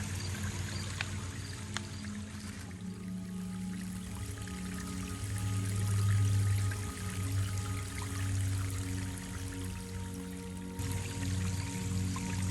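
Water flowing in a garden pond stream, running and trickling steadily at close range, with a continuous low wash that swells slightly midway.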